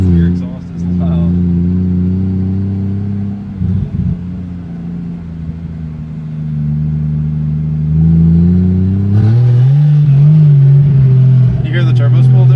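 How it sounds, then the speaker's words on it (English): A Lexus SC300 with a swapped 2JZ-GTE turbo engine, running without intercooler piping, drones steadily while driving around an airport hangar area, then climbs in pitch as the turbo spools up near the end, with people talking over it. "You hear the turbo spool there?"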